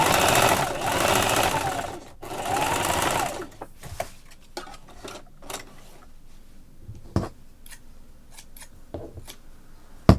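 A sewing machine stitches and back-stitches fabric for a scrunchie in two quick buzzing runs, close and loud, followed by quieter handling clicks and taps.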